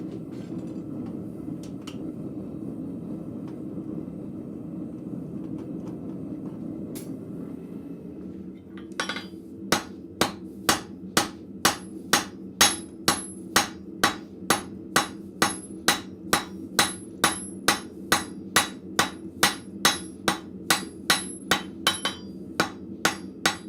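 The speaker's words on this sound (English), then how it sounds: "I would do tapers like this closer to the edge of the anvil, so I don't have to worry about hitting the edge of my hammer" At a blacksmith's anvil, a hammer forges a taper for hooks. After a quiet stretch of shop noise come steady, evenly paced metallic strikes, about two per second, ringing loud and close with a bright clang.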